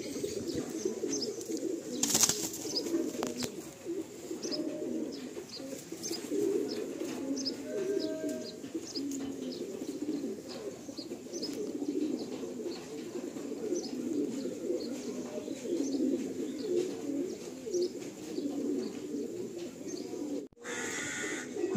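Andhra pigeons in a loft in Behala coo continuously, a dense layered murmur of many birds nearby with occasional wing rustles.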